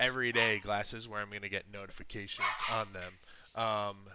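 A pet dog barks and yips in the background of an indoor room, several short sharp barks woven through continuous close talk by a man.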